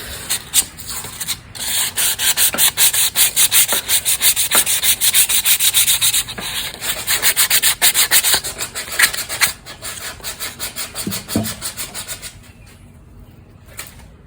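Rapid back-and-forth rasping of sandpaper on a wooden bud vase tray, smoothing rough edges, continuous and close for over ten seconds before tapering off.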